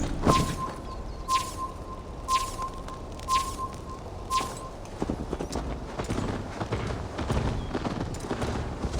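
Horse hooves clip-clopping at a steady gallop in the Viking-era game Assassin's Creed Valhalla, near and rhythmic, with rustling movement and a tonal chime in the first half.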